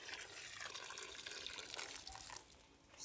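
Plain water, about five litres, poured around the base of a freshly transplanted bigleaf hydrangea, a steady close splashing stream soaking into garden soil, continuous for a few seconds with no talking.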